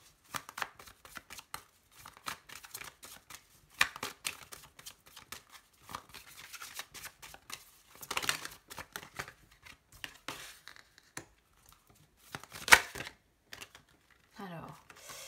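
Tarot cards shuffled and drawn for a general reading, a long stream of soft papery riffles and taps with occasional sharper card slaps, with some quiet talking mixed in.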